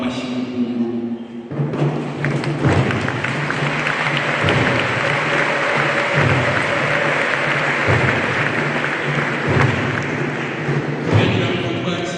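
A church congregation applauds to welcome the bishop and priests of Kabgayi diocese at a new church dedication in Ruyenzi parish, Rwanda: sustained, dense clapping from a large crowd, steady and loud throughout, with occasional thumps.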